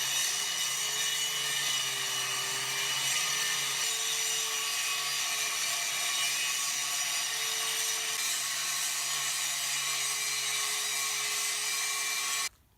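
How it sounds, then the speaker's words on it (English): Angle grinder steadily grinding a square hole through thick metal for a propane fire pit burner, a continuous bright abrasive whine with slight pitch shifts, close and loud for the whole stretch before stopping abruptly at the end. "I'm just gonna use a grinder. I'm gonna go through a couple wheels probably and just grind out a little square for the burner to go through"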